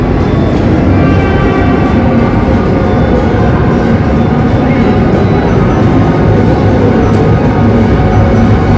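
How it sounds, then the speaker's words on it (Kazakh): A small train runs inside a shopping mall, giving a constant, loud, close rumble with a faint regular clicking along with it. "Әне паровоз келе жатыр мына жерде."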